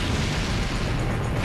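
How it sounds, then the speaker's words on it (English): A powerful chemical explosion at an industrial blaze, heard as a sustained, dense roaring rumble with heavy low-end, loud and continuous throughout without distinct separate blasts. "One explosion is so powerful that it sends firemen running for their lives."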